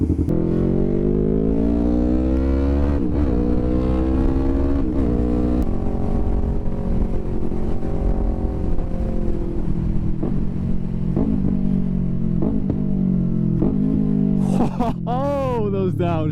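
A motorcycle engine drops through several downshifts with blipped revs for rev matching, rising and falling engine tones loud and close throughout, with a quick sharp rev near the end.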